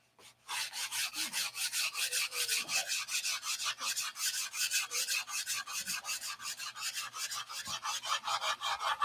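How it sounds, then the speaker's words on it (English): Steady back-and-forth rasping of hand sanding on a wooden control-line stunt model of a Republic P-47 plane, rhythmic strokes repeating continuously at close range with no talking. "it needs a bunch more sanding"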